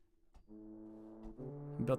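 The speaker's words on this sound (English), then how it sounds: "that train horn sample that we used" A deep, sustained horn blast with rich layered tones swells and holds for a couple of seconds, growing louder toward the end.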